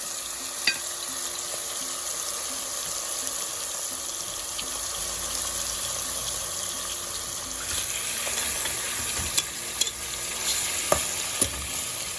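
Curry powder burning in hot oil in a pressure cooker pot gives a steady, close sizzle with occasional sharp clicks and utensil taps, mostly in the later part.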